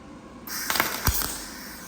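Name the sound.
tack welding on a Ford disk harrow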